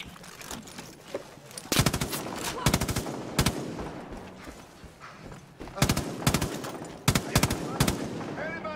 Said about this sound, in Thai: ปืนมึงยิงบวกสุดเร็ววะ